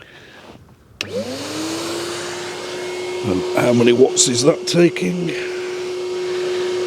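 A Henry vacuum cleaner whirs up to a steady loud hum after switching on, drawing mains power from an MG4 electric car through an extension lead, while a voice speaks over the drone.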